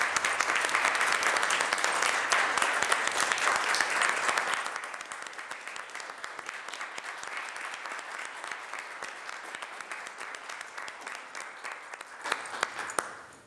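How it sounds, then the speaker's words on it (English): A room at a Boston city council meeting breaks into a round of applause, fuller for the first few seconds and then thinning to scattered, steady clapping that carries on and tapers off at the close. "I'm hoping you all will join me in a round of applause for my ride or die"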